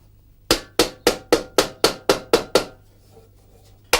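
A hammer strikes metal at a traditional forge, ten sharp evenly spaced blows ringing out loud and close, each decaying quickly, then a pause before one more strike.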